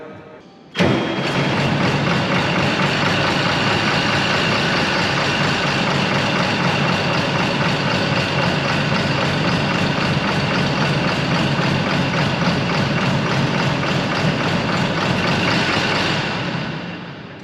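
A new farm sprayer's engine catches abruptly, then runs rough on about two cylinders, a loud steady uneven idle that carries on for many seconds alone before dropping off at the end.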